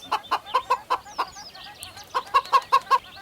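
A chicken clucks in two quick bursts of about six short, evenly spaced clucks each, close and clear, with a brief pause between the runs and no talk.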